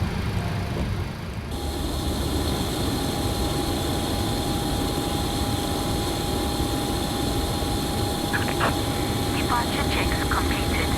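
Airliner engine starting in the flight simulator MSFS 2024: a loud, steady broadband roar fills the whole stretch, with a thin sustained whine joining after the first second and brief faint clicks near the end.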